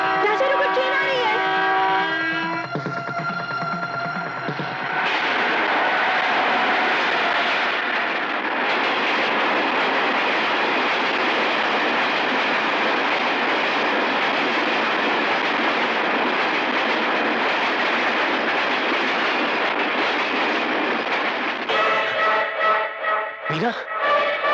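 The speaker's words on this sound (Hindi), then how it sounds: "ट्रेन आ रही है।" A train approaches with a loud horn blast at the start, then a long, steady roar and rumble of rolling cars, and a second horn sounds near the end.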